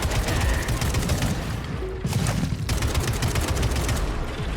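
Rapid, dense bursts of weapon fire in the video game Atomic Heart, loud and continuous with overlapping blasts and no pauses.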